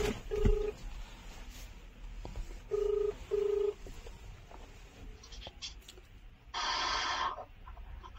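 A phone keypad sends a short series of dialing tones, a few evenly spaced beeps followed by a longer buzzing tone, with little else around them.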